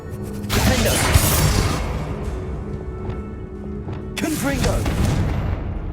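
A Confringo fire spell explodes in the Hogwarts Legacy video game, with loud, broad bursts and booms crackling over continuous battle noise, then a second burst later on.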